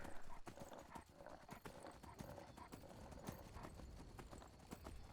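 A horse's hooves clip-clop steadily in Skyrim while the horse moves and whinnies, with uneven thudding steps over game ambience and a voice talking quietly at times.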